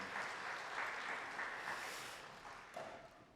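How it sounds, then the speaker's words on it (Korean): A church congregation at an early-morning family prayer meeting applauds, giving a soft, fairly distant patter of clapping that eases off toward the end. "박수하겠습니다"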